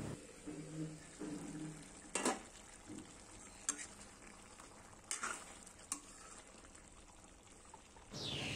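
Meat frying in a pan with faint sizzling and a few sharp scraping stir strokes, low and fairly quiet throughout, with brief low clatter near the start.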